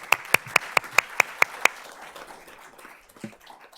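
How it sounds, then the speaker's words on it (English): About eight loud, evenly spaced claps ring out in a board of trustees meeting room, then fade into a soft murmur of scattered room noise. "Let's give that a round of applause."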